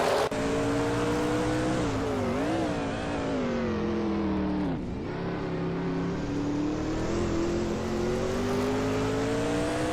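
Engines of 1980 NASCAR race cars in a racing video game at the Calafat track, a loud steady roar with pitch rising and falling as gears shift, one sharp dip midway, continuous and close.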